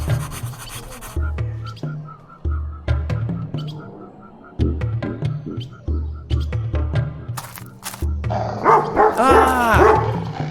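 A dog in the Zak McKracken: Between Time and Space video game barks repeatedly at the player, a loud rhythmic string of close barks over a game soundtrack, ending in a messier flurry of yelps.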